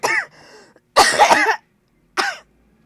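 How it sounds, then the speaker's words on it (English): A person with a months-long cough coughs three times, harsh raspy bursts with throat-clearing, close and loud with silent gaps between. "I've had a terrible cough for months"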